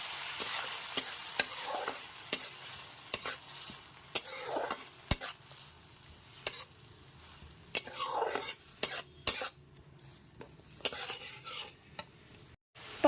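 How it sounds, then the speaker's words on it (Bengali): Tomato paste is stirred and fried in a pan over a medium gas flame while cooking lentils with taro, giving repeated close spatula scrapes and clicks against the pan over a gentle sizzle, with no voices. "এরপর এর মধ্যে দিয়ে দিচ্ছি একটা টমেটো পেস্ট গ্যাসের ফ্লেমটা মিডিয়ামে রেখে খুব ভালো মতো মিশিয়ে নিচ্ছি"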